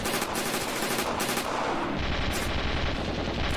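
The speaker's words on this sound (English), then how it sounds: "You guys are shooting each other. That's the SMG going, and what do you got? One of the semi-auto rifles or the rifles?" Dense, continuous gunfire from an SMG and rifles in the Ravenfield video game, with rapid overlapping bursts filling the whole stretch at a loud, steady level.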